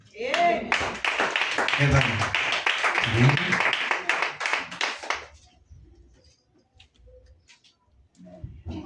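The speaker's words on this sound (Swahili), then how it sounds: "Makofi mazuri." Church congregation clapping at a men-led Sunday service, rhythmic claps of many hands lasting about five seconds alongside talk and voices, then fading to quiet.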